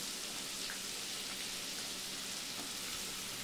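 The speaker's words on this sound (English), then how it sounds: "So just start by adding your butter to your pan, and then just start adding all your vegetables in there." Vegetables fry in melted butter in a pan, giving a continuous soft, even hiss and crackle at low volume with no voices.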